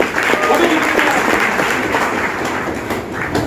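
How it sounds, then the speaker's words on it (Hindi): Loud, sustained applause from an audience at an event, dense clapping filling the whole stretch with faint voices underneath, easing slightly toward the end. "जोरदार तालियां इनके लिए।"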